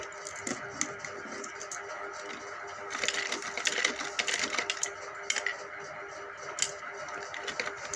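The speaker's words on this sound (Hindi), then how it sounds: "अब मैं इसे यहाँ पर इस तरह से करके शुरू करती हूँ सिलाई" A sewing machine runs steadily while stitching piping onto a kurti, a close continuous whirring hum with light mechanical ticks that grows busier midway.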